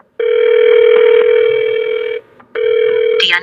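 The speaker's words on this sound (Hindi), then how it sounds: "फिर टिया को कॉल किया।" Phone ringing on a call in a Hindi audio drama: one long, steady electronic ring tone, loud and close, breaks off briefly, then sounds again before a short click at the end, with no voices over it.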